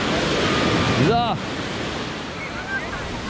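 Ocean waves breaking on a beach in Malaga, a loud continuous roar of surf with wind buffeting the microphone and a brief whistle-like sound midway.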